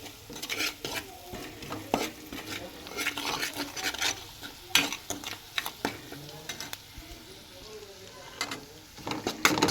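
Turmeric, salt, garam masala and chili are stirred into a mixture with a spoon, making irregular scraping and clattering strokes against the bowl over a faint sizzle, close up.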